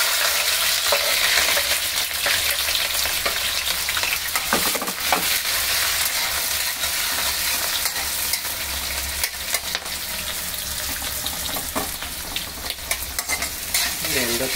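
Onions and green chillies fry in hot oil, a steady loud sizzle with stirring scrapes throughout, no voices.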